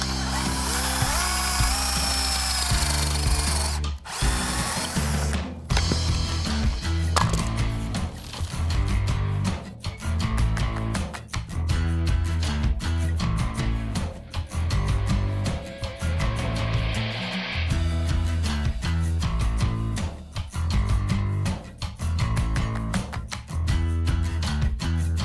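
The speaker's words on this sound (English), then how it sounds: "I have a lot of holes to drill" A power drill bores a long series of holes through wood panels while a custom paint booth is built, with repeated whirring bursts separated by brief pauses.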